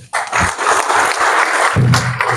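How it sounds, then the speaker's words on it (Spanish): A conference audience gives a strong round of applause to welcome a speaker on art and social transformation: loud, dense clapping bursts in abruptly and holds steady, with a voice briefly heard near the end. "Recibámoslo con un fuerte aplauso"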